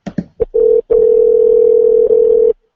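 A few short clicks and beeps, then a loud, steady, close telephone dial tone holds for about two seconds before cutting off, heard while redialing a number.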